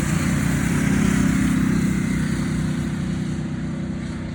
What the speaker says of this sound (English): Some more motorbikes passing.